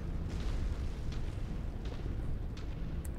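Buildings crumble under heavy mech fire in MechWarrior 5, a dense, continuous low rumble of collapsing debris and blasts with a few sharper bursts, loud and unbroken throughout.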